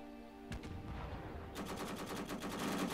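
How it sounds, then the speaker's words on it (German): Rapid bursts of video game gunfire, a sharp shot then dense continuous rattling automatic fire that builds in the second half, loud and up close with no talk. "Ja, der kann auch ballern."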